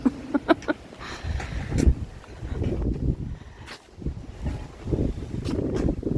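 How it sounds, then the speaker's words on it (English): Strong gusts buffet the microphone outdoors on a sunny, cold day of about 40 degrees, booming in uneven low surges that swell and fade for several seconds, with a few short knocks at the start and no talking heard. "You probably can't hear me over the massive wind here."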